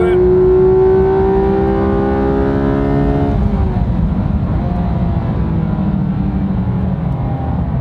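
Race car lapping the Silverstone circuit, a loud sustained engine tone from inside that climbs in pitch and then drops into a steady rough roar as the car accelerates, with no talk.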